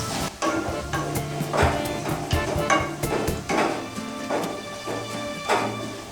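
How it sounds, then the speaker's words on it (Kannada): Ginger garlic paste fried in a pan for Bengaluru-style egg rice, with a steady low sizzle under repeated sharp clanks and scrapes of a spatula against the metal, close and fairly loud in an irregular rhythm. "ಶುಂಠಿ ಬೆಳ್ಳುಳ್ಳಿ ಪೇಸ್ಟ್ ಹಾಕಿದ ನಂತರ ಮತ್ತೆ ಒಂದು ಸರ್ತಿ ಚೆನ್ನಾಗಿ ಮಿಕ್ಸ್ ಮಾಡ್ಕೊಳ್ಳಿ. ಯಾಕಂದರೆ ಹಸಿ ವಾಸನೆ ಹೋಗೋವರೆಗೂ ಚೆನ್ನಾಗಿ ಫ್ರೈ ಮಾಡ್ಕೋಬೇಕಾಗಿರುತ್ತೆ"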